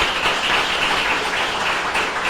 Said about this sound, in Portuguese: uma salva de palmas para Jesus, irmãos.